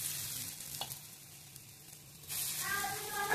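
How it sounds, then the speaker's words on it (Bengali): Motor dal bora, lentil fritters, are dropped into hot oil and fry with a steady hiss. The sizzle grows louder and brighter as more batter goes in near the end, with faint kitchen movement in between. "তেলটা গরম হয়ে গেছে, আমি এক করে বড়াগুলোকে ছেড়ে দেবো।"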